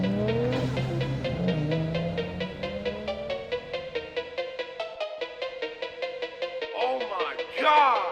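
Race cars in the CarX Street video game rev hard, with engines rising and falling rapidly in a pulsing rhythm. A tire screech or skid cuts in near the end.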